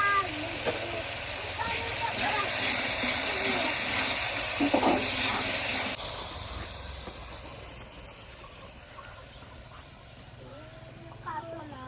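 Water poured into a pan of frying masala sets off a loud, sustained hiss of steam and sizzling that fades after several seconds, with a home cook's kitchen noise around it.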